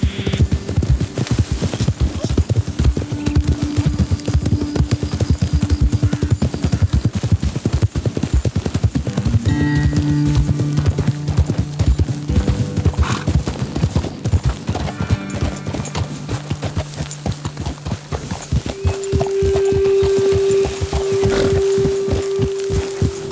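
Horses in Red Dead Redemption 2 clop steadily at a brisk pace across the whole stretch, their hoofbeats loud and close, with brief whinnies and game music tones layered over the rhythm.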